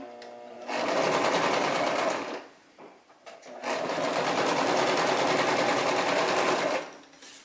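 A Brother LX-3125 sewing machine stitches an apron in two steady runs, loud and close, separated by a short pause.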